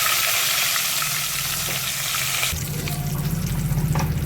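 Curry leaves hit hot oil already tempered with cumin and mustard seeds for bitter gourd pulusu, a steady frying sizzle that turns louder and more crackly partway through, with no talking.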